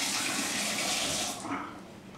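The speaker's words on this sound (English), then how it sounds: "just rinse it with your hands for about 5 to 10 seconds" Cold water runs steadily from a kitchen tap as a potato is rinsed by hand, a full, close splashing rush that thins slightly toward the end.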